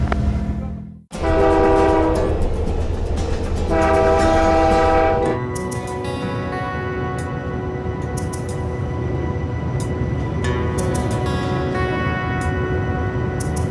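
A Trans-Canadian Railway passenger train rolls through mountain country, its horn sounding in loud sustained blasts near the start, then a steady rumble of wheels and cars with sharp clicks and bumps continuing close by.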